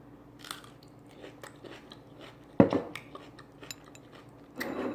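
A crunchy baby dill pickle is bitten with a sharp close crack midway, followed by quieter chewing and a second burst of crunching near the end, alone in a quiet kitchen.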